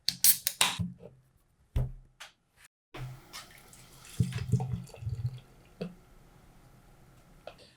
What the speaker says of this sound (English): That was a pretty impressive pour.